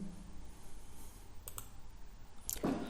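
A computer mouse clicks a few times, faint and close, with a pair of quick clicks midway and another near the end over a quiet room hum.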